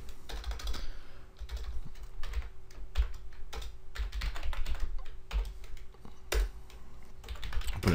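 Rapid typing on a computer keyboard while entering commands on an Ubuntu machine, close and crisp key clicks in irregular bursts with occasional heavier keystrokes, heard alone without talking.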